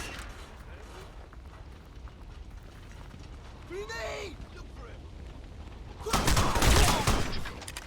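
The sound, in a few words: headshot sound effect from the video game Crysis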